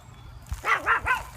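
A dog barks three times in quick succession at close range, loud, short, evenly spaced yelps outdoors in a garden setting, with no talking over them.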